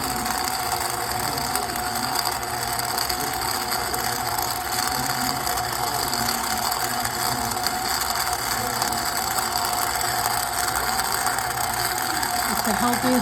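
A KitchenAid grain mill grinds wheat berries into flour with a steady, dense mechanical whir and grating rattle that runs unbroken and loud from start to finish.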